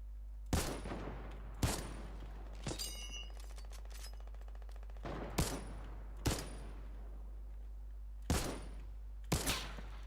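Gunfire in the video game Fortnite: seven sharp separate shots spaced irregularly, with short rattling echoes after some of them, over a steady low hum.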